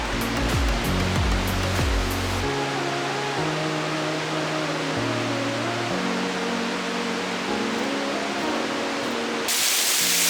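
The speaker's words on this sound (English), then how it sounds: "here it is, Amphitheater Falls" Amphitheater Falls in Clifton Gorge roars as a steady, full waterfall wash filling the whole stretch, with soft music tones laid over it.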